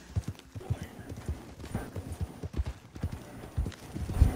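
Horse hooves clip-clop in Red Dead Redemption 2 Online, a steady rhythmic run of close, fairly loud hoofbeats lasting several seconds.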